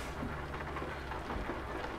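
Steady rain falls in the Euro Truck Simulator 2 driving game, a dense continuous hiss with low rumbling underneath, moderately quiet and without voices.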